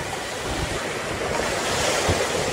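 Ocean surf at Klotok beach in Wonogiri, a broad continuous wash of breaking waves with wind noise buffeting the microphone, loud and steady throughout.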